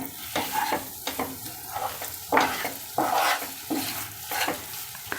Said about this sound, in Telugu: ఇది ఒక స్పూన్ ఉంటుంది వేసి బాగా కలుపుకోవాలి